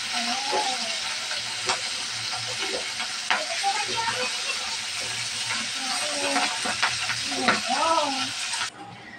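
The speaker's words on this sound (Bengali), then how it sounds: "মাছটা হালকা ভাজা দেব।" Pabda fish frying in hot oil in a pan after being flipped: a loud, continuous sizzle and hiss with occasional spatters, and a faint voice briefly audible in the background.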